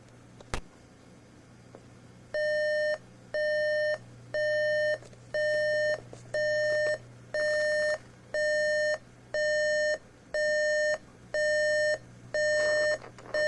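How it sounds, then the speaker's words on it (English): RCA RP-3740A CD clock radio alarm sounding: a faint click, then a steady run of loud electronic beep bursts, each about half a second long and evenly spaced, repeating roughly eleven times with no talking. "let me set an alarm and see if that's at least a redeeming feature"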